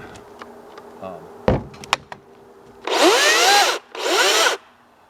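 Two sustained bursts of a high, whining cordless electric chainsaw motor revving up and cutting off, each lasting about a second, with small knocks before them.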